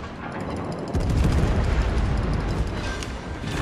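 Naval gunfire from destroyer battles in World of Warships rumbles as a loud, sustained roar that swells sharply about a second in and stays heavy to the end.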